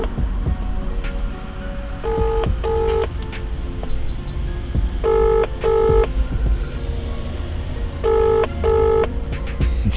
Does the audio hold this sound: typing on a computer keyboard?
no